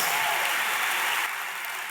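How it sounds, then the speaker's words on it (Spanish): Congregation clapping during a church service, a dense, even wash of applause that stays steady and eases slightly toward the end. "Denle un aplauso fuerte al Señor."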